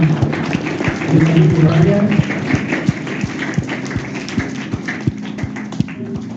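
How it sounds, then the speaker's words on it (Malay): Applause from a school audience at a motivational talk rings out for a friend, with dense clapping and scattered sharp taps under steady background voices and talk. "tepukan untuk sahabat kita"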